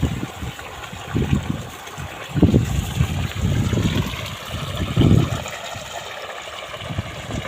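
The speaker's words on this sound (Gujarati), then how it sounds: "મેથીમાં પાણી હાલે છે." Irrigation water runs steadily through a furrow in a fenugreek field, a continuous trickling gush with a broad outdoor hiss and some rumble, with no voices.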